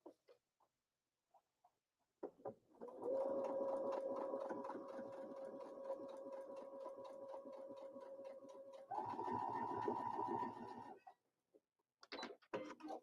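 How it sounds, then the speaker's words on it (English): A sewing machine stitches quilt fabric in one steady run of about eight seconds, then speeds up into a louder, brisker burst before stopping, with a few soft handling clicks before and after. "So off to the sewing machine I go."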